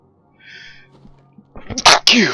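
A single loud, close sneeze with a sharp intake and explosive burst near the end, preceded by quiet background tones and a faint voice.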